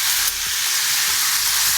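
Onions in olive oil sizzle loudly and steadily in a pan, a close, dense hiss with a few soft utensil knocks underneath and nobody speaking.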